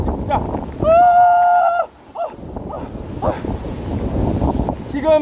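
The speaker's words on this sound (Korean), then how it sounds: "그 바비 때보다 더 엄청난 바람이 불고 있습니다" Strong typhoon wind roars and buffets the microphone outside Jeju Airport in gusty, rumbling surges. A whistling tone rises briefly near the start, and a reporter's voice is heard through the gale.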